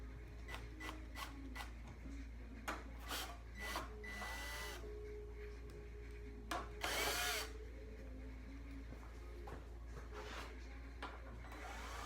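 A power drill with a 1/4 inch bit whirs in repeated short bursts removing bolts from an evaporator fan motor, with scraping and rubbing between them and a steady low hum underneath.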